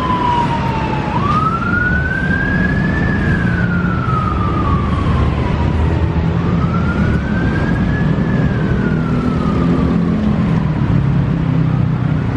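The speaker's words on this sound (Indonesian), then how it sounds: "Wih, ada suara ambulan ya." A wailing ambulance siren sweeps slowly up and down in long cycles near Bandung railway station, loud and steady over constant traffic and street rumble, with no talk.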